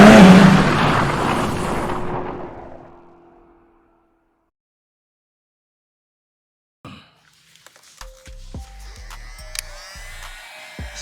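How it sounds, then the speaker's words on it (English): A heat gun runs near a dented car bumper with a loud, close whooshing blower hiss. The hiss winds down and fades into silence, and scattered faint clicks and handling noises follow. "So we'll be using a heat gun"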